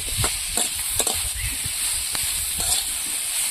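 Spicy Bengali fish curry with elephant foot yam and a ground spice paste is stirred in a pan. Soft scraping and sloshing strokes come close by over a steady sizzling hiss.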